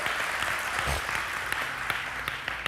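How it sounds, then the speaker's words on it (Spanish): A church congregation claps continuously and fairly loudly, with scattered sharper claps standing out from the steady patter. "se merece el Señor un aplauso por eso"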